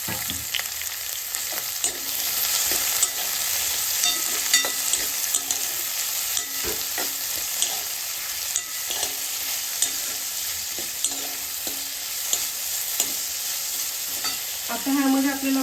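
Chopped onion gone translucent and capsicum sizzle in a hot pan while a spoon stirs and scrapes them, a steady frying hiss with frequent close clinks, no voices.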